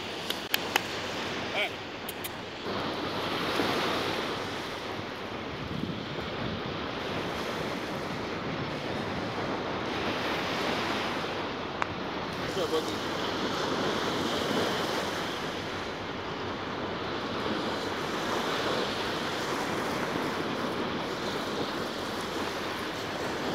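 Ocean waves wash steadily onto a beach with constant broadband surf roar and gusty wind noise across the microphone, while a person speaks intermittently over it.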